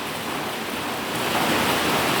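Heavy rain pours down during a tropical depression storm, a loud, continuous broadband roar that swells slightly toward the end, with no one speaking.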